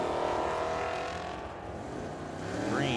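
Drag racing at Firebird Motorsports Park, a 1970 Challenger and a Mustang at the line, engines roaring loudly then dipping and swelling again, with a rising whine near the end.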